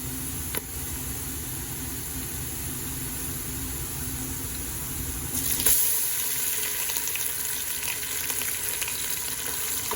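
Onion frying with ginger and garlic in a pan sizzles steadily and close, growing louder and brighter partway through as more is added.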